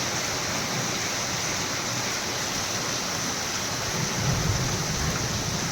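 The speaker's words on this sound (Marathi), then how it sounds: "इतकं जोरदार पाऊस चालू आहे मित्रांनो जबरदस्त पाऊस चालू आहे" Heavy early-morning monsoon rain pours steadily, a loud dense wash of water hitting surfaces that swells slightly near the end, with no voices.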